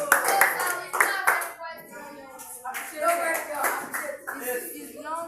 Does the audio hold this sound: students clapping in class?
yes